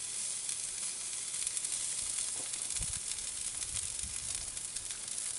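Goose leg quarters browning skin-side on a grill give off a steady, dense sizzle and hiss throughout, with a few soft low pops and crackles partway through and no talking.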